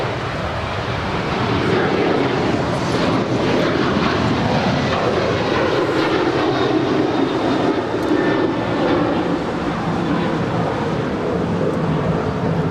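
A seven-year-old United Boeing 737-900ER departs LAX for Washington Dulles, its jet engines producing a loud, sustained roar that builds and holds throughout, with faint voices in the background.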